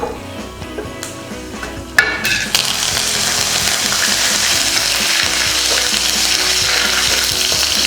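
Whole spices, including cinnamon, bay leaf, fenugreek and urad dal, fry loudly in a hot pan with a constant crackling sizzle and occasional stirring scrapes after a few quieter opening seconds.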